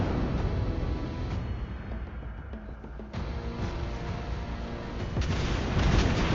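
Torpedo hits rock a warship in World of Warships Blitz, deep booming explosions and rumbling blasts rolling over several seconds, swelling louder toward the end, with little or no talk.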